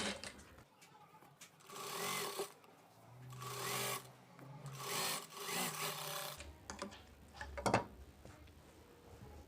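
A sewing machine stitches a straight seam along the cross belt joint of a blouse front piece, running in several bursts of whirring stitches with short pauses between them, close and fairly quiet, with no talk.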